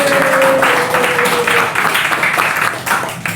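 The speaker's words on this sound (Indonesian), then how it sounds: "Boleh tepuk tangannya dong?" A studio audience claps loudly during a podcast recording, a full crowd of hands with a faint tone and voices underneath, continuing for a few seconds.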